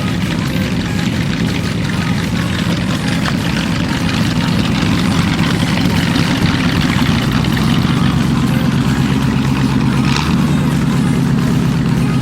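A British Racing Green Audi S6 Avant wagon with a V8, all-wheel drive and a manual gearbox idles at a car meet, a loud, steady, low rumble droning without pause.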